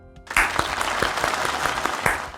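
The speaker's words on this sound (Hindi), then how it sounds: "आपकी तालियों में तशरीफ लाते हैं बिशप जोनाथन रहमत।" An audience breaks into applause to welcome a bishop at a church program, starting sharply after a brief quiet moment and continuing as steady, moderately loud clapping with a few distinct claps standing out.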